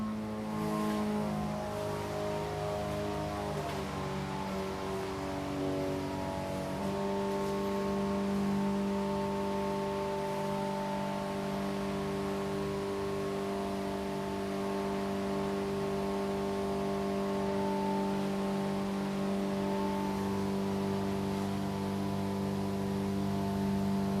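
A D150 race truck fitted with a new fuel system and nitrous oxide system at its first fire-up: a loud, steady engine drone runs throughout, changing pitch partway through, then settling into an even idle.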